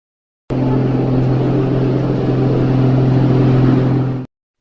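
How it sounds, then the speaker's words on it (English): Truck crane engine running at a steady idle, a loud constant low hum with a strong droning tone that cuts in abruptly, holds evenly for about four seconds, then stops cleanly. "Truck crane."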